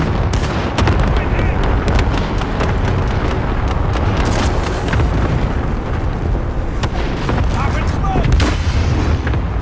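Airstrike explosions and artillery fire in Call of Duty: Modern Warfare ground war: a dense, loud, continuous barrage of booms and blasts with sharp cracks throughout, radio-style callouts faint underneath.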